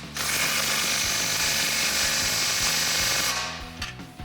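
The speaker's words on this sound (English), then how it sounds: "And tightening our muffler first." A hand ratchet clicks rapidly and steadily while tightening an exhaust muffler clamp on an axle-back exhaust for a 2021-2022 Ford Bronco, close and loud, running for several seconds before stopping.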